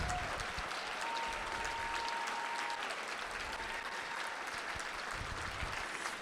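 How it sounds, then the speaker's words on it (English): At a political Senate forum in Arizona, an audience applauds precinct committeemen with steady, continuous clapping from a distance, a faint tone audible underneath. "Give them a round of applause."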